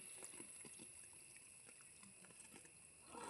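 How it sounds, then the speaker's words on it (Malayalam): Water is tipped out of a lotus tub in a faint, quiet pour, with light trickles and dribbles before a slightly louder splash at the end. "ആ വെള്ളം മൊത്തം നമ്മൾ ഒഴിച്ച് കളയണേ"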